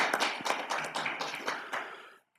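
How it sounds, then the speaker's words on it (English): Scattered applause from a small group at a regional council's ordinary meeting, distinct claps ringing out for about two seconds before stopping abruptly. "We'll give Jason a round of applause."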